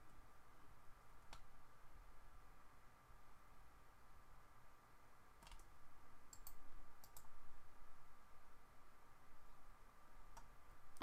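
Sparse computer mouse clicks during AutoCAD 3D solid editing, a few sharp isolated clicks spaced irregularly over a steady low background hum, with a brief cluster near the middle.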